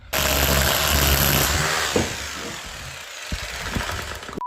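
Parkside power tool chiselling into a hard reinforced brick wall, a loud continuous grinding hammer roar close by that falls off into scattered knocks and scrapes near the end.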